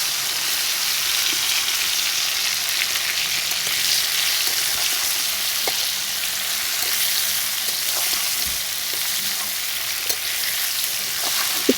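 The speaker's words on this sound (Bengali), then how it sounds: "তারপর আমি আমগুলো তেলের মধ্যে ছেড়ে দেব, দিয়ে ভালো করে নাড়াচাড়া করে নেব।" Mango pieces for pickle fry in hot oil with a steady, continuous sizzle while being stirred, with occasional light scraping knocks from the stirring utensil and no talk.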